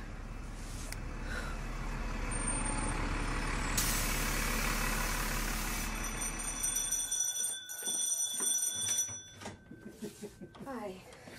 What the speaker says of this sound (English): The bus is coming.